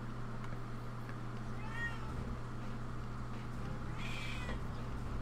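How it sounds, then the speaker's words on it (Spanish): Cat meowing in a room during Dino Crisis 2 gameplay: two faint, drawn-out meows, one early and one near the end, heard over a steady hum of game ambience. "Oigo un maullido, pero no sé dónde."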